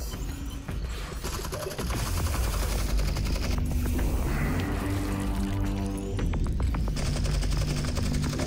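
Sustained gunfire in Half-Life: Alyx, with rapid automatic bursts and dense shots that keep going for the whole stretch. It comes loud and close, with no speech over it.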